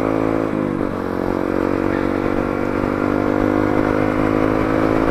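A Yamaha XTZ motorcycle engine runs loud and close, a steady throaty rumble with a slight rise early on, holding at a constant high revving drone for the whole stretch.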